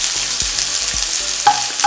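Onions fry in a pan for chicken curry with spinach, a close, continuous sizzle broken by a few rhythmic scrapes of a spoon stirring, with a brief sharper clink near the end.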